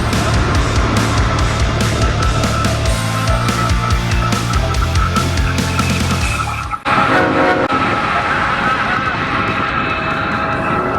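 A loud train rumbles past close by, with rhythmic clacking of wheels over track, then cuts abruptly to quieter ambient noise.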